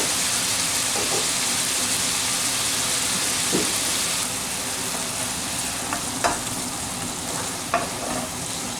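Seafood paella with marinara mix sizzles and fries steadily in a pan, a dense continuous crackle with occasional louder pops and stir clicks, close and alone.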